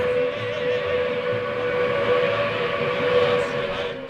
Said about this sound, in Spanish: La locomotora silbaba e iba a toda velocidad.